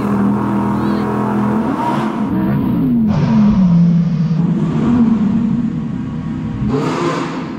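Two Audi R8s, one all-wheel drive and one rear-wheel drive, drag race on snow, their engines roaring loud and close with shifting pitch as they rev and accelerate.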